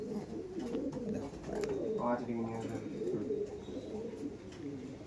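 Short-sized flying-line pigeons coo near a seller's stall, low repeated throaty burbles continuing steadily under faint background talk.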